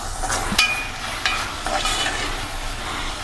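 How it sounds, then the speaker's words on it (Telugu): Carrot halwa stirring in a pan as ghee goes in, a steady close sizzle with scraping spoon strokes and a few sharp clinks against the pan. "ఒక 2 స్పూన్లు నెయ్యి వేసుకుందాం"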